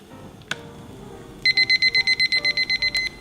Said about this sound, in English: Now I'm setting my timer for 3 minutes